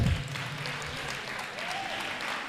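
Applause from the audience at the Magical Laserium laser and smoke show, moderately loud and steady for a couple of seconds, with a brief low rumble at the start.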